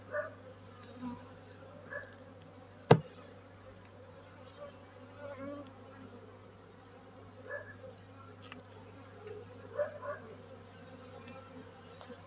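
Honey bees buzz softly inside a hive during a late-winter inspection, a low continuous drone with faint scattered knocks and one sharp click.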